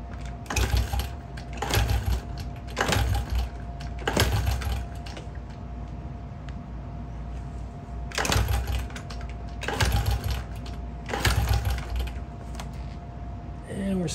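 Honda XR70 engine kicked over repeatedly with wide-open throttle and a compression tester fitted: bursts of mechanical churning in uneven groups over a steady hum, close to the microphone.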